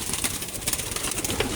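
Racing pigeons coo softly nearby in a short, steady murmur of low throaty calls.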